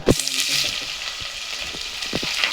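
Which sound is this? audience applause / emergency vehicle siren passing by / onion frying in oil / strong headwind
onion frying in oil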